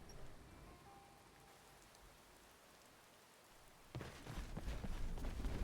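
Steady rain in Skyrim patters softly, then swells into a heavier, louder downpour near the end.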